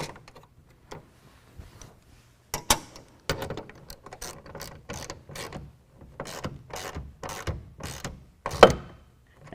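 Bolt and nut being tightened through the rail of a soft roll-up tonneau cover on a 2017 Nissan truck: a close series of short ratcheting clicks and metallic rattles in irregular bursts, with quiet gaps between.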